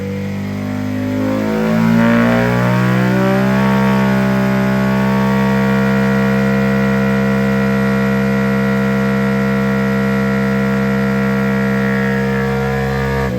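A Honda Monkey motorcycle engine with a free-flowing exhaust revs up on a dyno and holds a steady, loud, high drone, its harmonic tone climbing and then sustained alone for the whole stretch.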